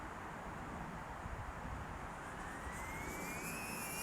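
A DJI Avata FPV drone in flight gives off a faint, airy rushing hiss, and a thin whine gradually rises in pitch toward the end.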